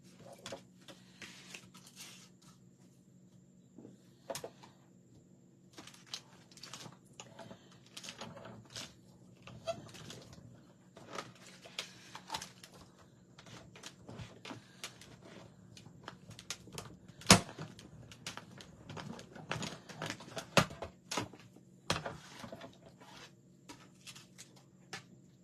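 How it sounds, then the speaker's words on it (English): Cardstock cranked through a Stamp and Cut and Emboss machine with an embossing folder gives steady, quiet mechanical clicking and rattling, with sharper knocks scattered across the run and a low background hum. "let me go ahead and run this through the embossing folder, or the Stamp and Cut and Emboss machine."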